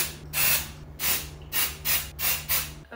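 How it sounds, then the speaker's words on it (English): Living Proof volume hair spray hisses from an aerosol can in five quick, even bursts. Each spray is loud and close, with a low hum in the background between them. "More full volume spray. This is from Living Proof. I love this volume spray."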